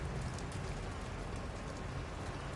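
Steady rain falls in the video game Detroit: Become Human, a soft, constant hiss of drops heard quietly and alone.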